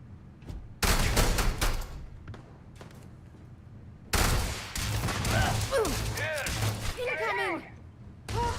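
Gunfire bursts in the video game Starfield, loud volleys around 1 s and again from 4 s, with rapid crackling shots mixed with game sound effects and voices talking over the fight.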